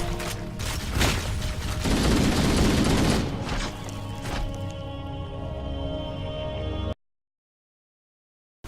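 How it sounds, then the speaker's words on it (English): Assault rifle bursts from the Halo Anniversary campaign level The Maw, fired at Flood enemies: dense, loud rapid gunfire with thumping impacts and game effects for about seven seconds, then abrupt silence. "rotating between shooting them with our assault rifle and smacking them to death"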